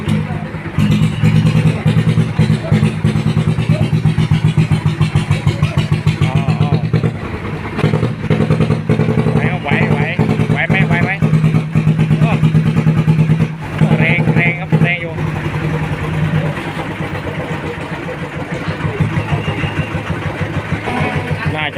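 A homemade Thai e-taen farm vehicle engine races at a village merit-making festival, its loud, rough single-cylinder chugging running steadily and close throughout, with rhythmic clatter and brief dips in revving.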